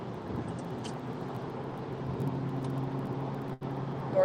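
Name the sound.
road traffic noise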